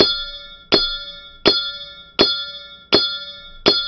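A gate chime from the video game Manamon sounds five times at a steady pace, each a bright metallic clang that rings out and decays before the next strike, clear and alone.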